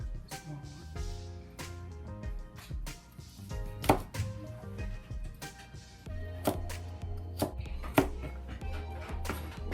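A knife chops ingredients on a cutting board for Kung Pao chicken, sharp knocks sounding close in an uneven rhythm, some quick and some spaced apart, while a voice talks in the background.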